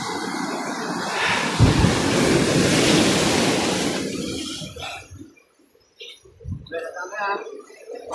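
Strong ocean waves crash and surge onto a beach in a loud, sustained roar for several seconds, then ease back as people talk over the quieter wash that follows.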